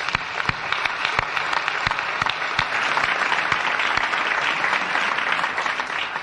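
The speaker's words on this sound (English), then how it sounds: "Let's give them a nice applause." Audience at a university homecoming event in 1996 applauds steadily for several seconds, a dense wash of clapping with a few sharper individual claps standing out.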